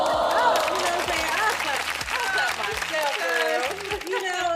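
Steady applause from a crowd at a motivational talk, dense clapping held at an even level throughout with harmonic voices or music mixed underneath.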